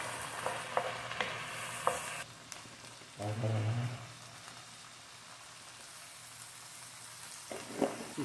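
Tomatoes drop into a hot frying pan for silver scabbard fish escabeche, bringing a steady, close hiss of sizzling oil with a brief surge as they land and faint stirring scrapes.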